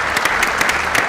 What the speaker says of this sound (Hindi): तालियां होनी चाहिए ऑडियंस के लिए